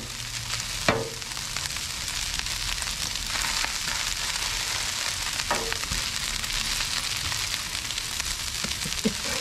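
Rice browning on a 22-inch Blackstone Adventure Ready griddle for hibachi-style fried rice, giving a steady close sizzle and crackle throughout with a few sharp scrape or spatula ticks.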